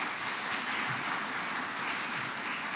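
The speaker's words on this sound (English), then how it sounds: "let's give her another round of applause." An audience applauds at a Governor Hochul child care funding announcement with Senator Gillibrand, a dense, steady wash of clapping that stays loud and even throughout, with no talking over it.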